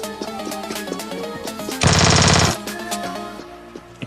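Gunfire in the video game Scarfall 2.0, a dense burst of rapid shots lasting under a second amid game music and effects, loud and close, with no talk.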